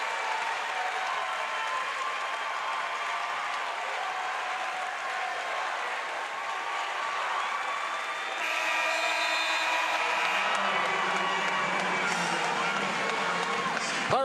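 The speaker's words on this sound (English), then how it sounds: "The crowd will say it for us here on the final 10 seconds of this one." A basketball arena crowd cheers and applauds through the closing seconds of a Seton Hall versus North Texas NIT second-round game, a steady, dense roar that swells louder near the end.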